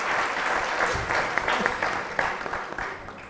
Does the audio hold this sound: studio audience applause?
yes